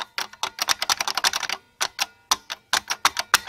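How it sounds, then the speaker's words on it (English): Clicks and snaps from a spring-loaded mechanism, a rapid burst of sharp ticks followed by sparser, evenly spaced clicks, close and fairly clear with no talking. "You can hear that spring."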